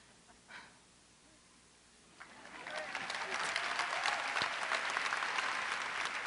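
At the 2011 Milton High School graduation, the audience bursts into applause after a quiet pause. The loud, dense clapping swells quickly and stays sustained to the end.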